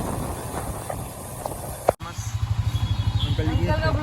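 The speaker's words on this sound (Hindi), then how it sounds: "अंकल देखो बाइक चला के आए" A motorcycle engine while riding on a street near a tea stall in Kanpur, India, a steady pulsing low drone that rises after a sharp bump, with people talking over it.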